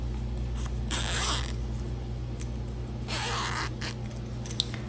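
A zipper on a small sewn ribbon pouch is pulled in two short, close zips, with quiet handling noise between them over a low steady hum.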